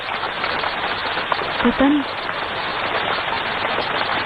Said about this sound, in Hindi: शायद बारिश हो रही है।